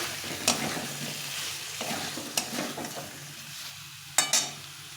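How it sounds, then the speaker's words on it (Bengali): Potatoes with melon seeds and cashews stir-fried in a pan for aloo dum, giving a steady sizzle with scraping stir strokes and a few sharp spatula clacks, close and continuous with no voices. "এখন আমি এই চার মগজ আর কাজু বাদামটা দিয়ে দিলাম দিয়ে আবার একটু কষিয়ে নিতে হবে"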